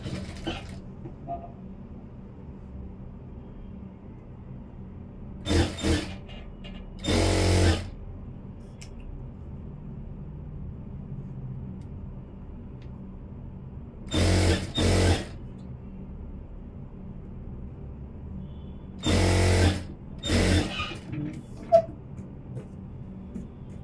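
A sewing machine stitches a churidar in several short bursts. Brief runs of whirring motor are separated by long quiet pauses, and there is no talk.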